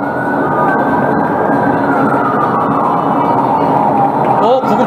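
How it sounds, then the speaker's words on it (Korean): An ambulance siren sounds inside a highway tunnel, a loud sustained wail carried over the steady roar of driving and tunnel echo, rising slightly in pitch near the end, with a voice speaking over it. "터널에서 사이렌 소리 들려서 뭐야?"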